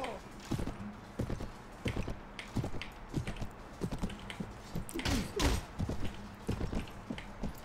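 Rapid clip-clop of horse hooves in the Mount and Blade Warband Game of Thrones mod, a steady galloping rhythm of sharp thuds close up, with scattered game noises and someone talking over it.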